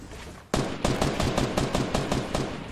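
Rapid automatic gunfire in the Fortnite battle royale game, a close burst of evenly spaced sharp shots starting abruptly and running for about two seconds.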